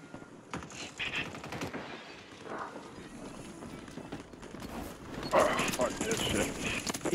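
Rapid automatic gunfire from an FJX Horus in Call of Duty Warzone, fired in bursts under excited talk from several players, with louder crackling shots late in the clip.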